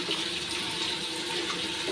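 Tap water runs steadily and close by, a constant splashing rush into a sink during dishwashing, with no talking.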